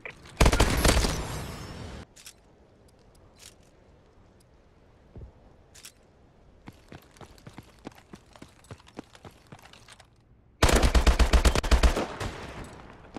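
Gunfire from weapons in the video game Call of Duty: Advanced Warfare, starting with a loud sustained automatic burst, then sparse scattered shots and softer clatter, and ending in another loud rapid volley.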